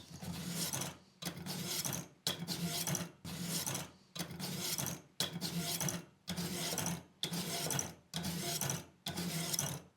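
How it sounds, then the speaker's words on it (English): A knife is drawn through a sharpener fitted with 320 grit stones in about ten even, separate strokes, each a loud gritty rasp of nearly a second with short silent gaps between, with no voices. "we've taken this knife 50 strokes through the sharpener with the 320 grit stones"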